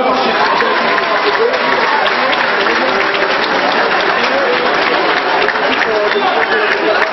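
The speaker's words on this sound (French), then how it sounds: "je vous demande encore les applaudir bien fort" Loud, steady applause from a crowd for boxers at a boxing club event, continuous clapping with some voices mixed in throughout.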